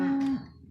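A single cow lets out a short, loud, close moo inside a feed barn, ending abruptly with a quiet tail of barn noise.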